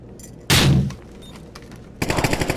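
A grenade goes off with a loud, close blast in the Tom Clancy's Athena Sword game, followed after a short lull by a rapid burst of gunfire.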